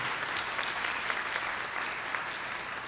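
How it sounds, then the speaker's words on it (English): A crowd applauds graduates at an honors recognition ceremony, dense clapping from many hands filling the space at an even, fairly loud level with no voices standing out. "Let's give a round of applause to all our graduates here this evening."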